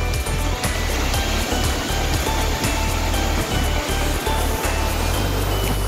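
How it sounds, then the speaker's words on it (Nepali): A waterfall roars steadily and loud close by, its broad rushing wash continuous throughout with no voices over it. "झरना तपाईँहरूले देख्न सक्नुहुन्छ"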